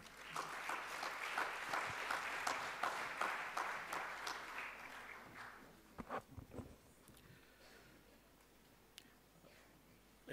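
An audience at the Sankalp Unconvention Summit 2013 plenary panel gives a full, steady round of applause that holds strong for about five seconds, then thins to a few scattered claps and fades into room quiet.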